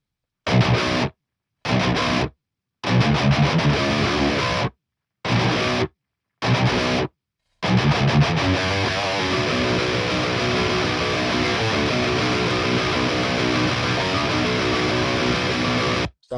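Two layered, heavily distorted electric guitar tracks through a Bogren Digital amp plugin with a custom cab and Ribbon 160 mic, playing tight staccato bursts cut by sharp silences before settling into a thick, sustained wall of chugging riffs.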